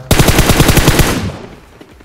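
Rapid automatic gunfire in the BGMI mobile battle royale game, a close, loud burst of about a dozen evenly spaced shots lasting around a second before cutting off to quiet.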